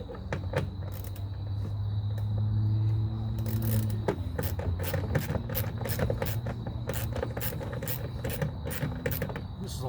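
Door bolts come out of a 2005 GMC Sierra with a hand ratchet, a run of quick, steady clicks close by over a low background hum.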